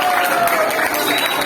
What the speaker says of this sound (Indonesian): Tepuk tangan buat adik kita itu.